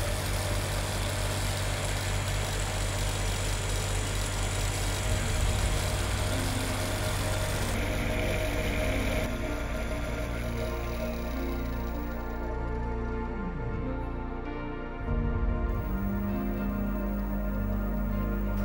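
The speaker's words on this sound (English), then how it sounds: "Now the motor rotates counterclockwise." A home-built brushless motor converted from an old car alternator runs steadily on a 55-volt DC supply, giving a continuous loud hum and whine with a faint tonal shift partway through.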